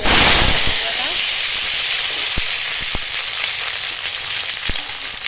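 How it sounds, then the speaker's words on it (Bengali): Dry red chillies sizzle in hot mustard oil in a wok, a loud hiss at first that settles into a steady crackling fry, with a few sharp pops and clinks scattered through. "এখানে কড়াই শুকনো এই সর্ষের তেল দিয়ে আর শুকনো লঙ্কা ফোড়ন দিয়েছি"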